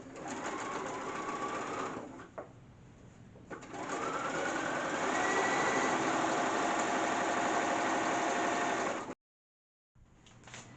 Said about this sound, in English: So I'm going to sew my machine.